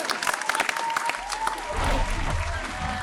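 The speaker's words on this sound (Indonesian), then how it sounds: "Tepuk tangan dulu dong" Applause in a small podcast studio, sharp individual claps from a few people close by at first, then blending into a fuller clapping burst with a low rumble and some voices.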